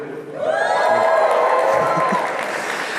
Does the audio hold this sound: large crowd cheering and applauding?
yes